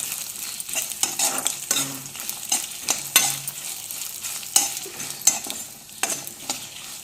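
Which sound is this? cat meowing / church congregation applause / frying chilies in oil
frying chilies in oil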